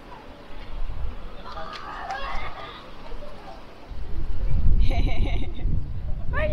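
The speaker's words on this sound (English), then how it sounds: "You see that bird?" A bird, apparently a fowl such as a chicken or rooster, calls several times on the beach at Ostend: sharp, clucking cries, loud and close, with people talking and wind rumbling around it.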